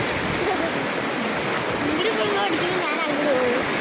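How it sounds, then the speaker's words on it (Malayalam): A flooded river in Kerala rushes strongly over the submerged Karippali bridge, a loud, continuous roar of churning water close by, with faint voices audible beneath the torrent. "ഭയങ്കര വെള്ളം ഒഴുക്കാണ് മലവെള്ളം വന്നുകൊണ്ടിരിക്കുകയാണ്"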